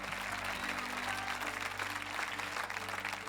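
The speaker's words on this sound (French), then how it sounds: "Allez, donnez-lui, acclamez-le avec moi." A church congregation at a French-language service applauds in a steady, sustained wash of clapping that fills the whole stretch, with a low electrical hum underneath.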